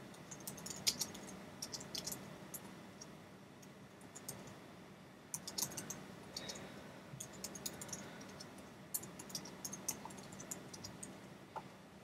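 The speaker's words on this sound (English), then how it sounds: "As you can see, I'm a bit of a slow typer." Slow typing on a computer keyboard while coding a Java program comes in irregular bursts of light clicking keystrokes, close but quiet, with short pauses between groups and no speech.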